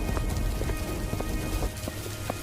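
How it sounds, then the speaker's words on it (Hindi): Heavy rain pours down steadily in the open, a dense, loud hiss with scattered nearby drips and splashes standing out, and no voices. "बारिश और तेज हो गई"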